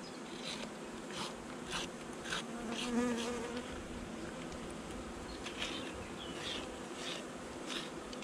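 Honeybees buzz continuously around an opened beehive during a swarm inspection at a permaculture site. The insect drone stays steady and fairly close, with brief louder passes as single bees fly near, and no talk is heard.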